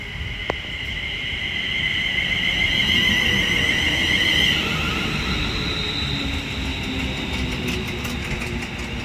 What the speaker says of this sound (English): Sounds like that was a flat wheel.